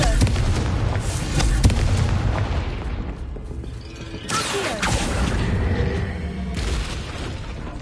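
A Confringo blasting spell goes off in Hogwarts Legacy, loud booming blasts with crackling debris that recur over a dense, continuous bed of game noise.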